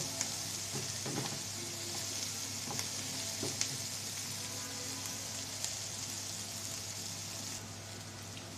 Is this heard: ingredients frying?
yes